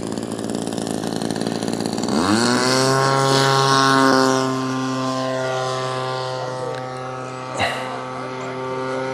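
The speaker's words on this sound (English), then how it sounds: "Aircraft was right in front of me taking off." An E-Flite Carbon-Z Cessna 150T electric RC airplane throttles up sharply and takes off nearby, its propeller whine rising to a loud, steady drone that then slowly fades as it flies away.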